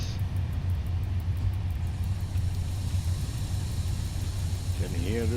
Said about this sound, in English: Can hear the train is braking.